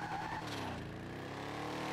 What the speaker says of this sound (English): Look at that burnout mark all the way back there.